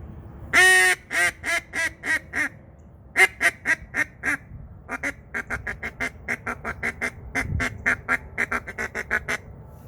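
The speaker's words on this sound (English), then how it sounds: "So here's the hail call, and it's going to go into that secondary." A duck call blown in a loud opening hail, then a long run of short, quick quacking notes in a choppy, staccato rhythm, close up.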